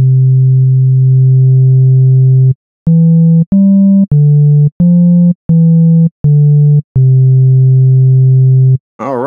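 A loud sine wave tone from the Focus One synth plug-in, with added harmonics, holds, then pulses through a run of short notes that move up and down in pitch. It has a richer, buzzier timbre than a pure tone.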